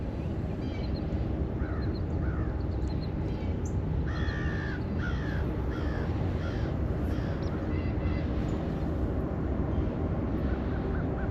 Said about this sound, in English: And this way you get some birds and crows and stuff.